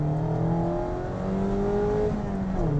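BMW E46 M3 and Mazda MX-5 Miata accelerating side by side in a drag race, engines droning loud and steady with rising and falling harmonic tones, no talk over the sound.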